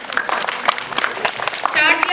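An audience at a school English poem recitation competition claps for a student, a short patter of scattered hand claps with a voice speaking over it.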